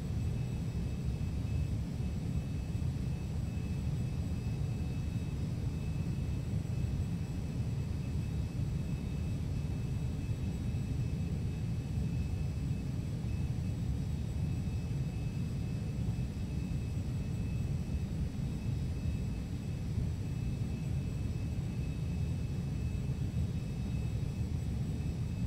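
A Carenado 525A Citation jet cruises in flight in the Prepar3D simulator, its steady low engine rumble and cabin hiss continuous and unchanging throughout.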